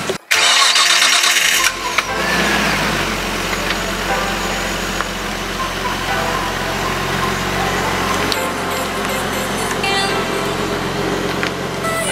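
Nissan Skyline R34 with engine damage cranking and starting, then pulling away and driving; a loud, steady engine drone with low rumble fills the clip, the start audible at the beginning.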